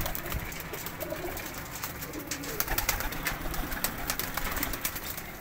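Sialkoti pigeons coo softly amid a dense, noisy bird chorus and rustling, with no one talking.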